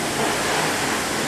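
Dense, unbroken rushing spray of water blasting over a car at a car wash, loud and close, with no voices.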